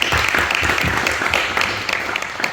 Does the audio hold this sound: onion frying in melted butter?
no